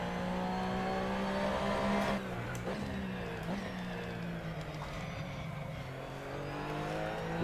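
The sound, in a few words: Porsche race car engine accelerating in sim racing game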